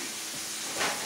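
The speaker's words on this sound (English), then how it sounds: "Sounds like you're accomplishing something when your food is sizzling like that." Chicken sausage sizzles in a hot pan, a steady hiss of frying that rises briefly into a louder burst of spitting near the end of the short moment.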